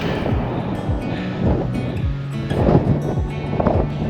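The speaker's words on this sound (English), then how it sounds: "It's actually a little bit scary just how windy it is." Strong wind at Cape Le Grand National Park near Esperance roars and buffets the microphone in a continuous low rumble, swelling in gusts throughout.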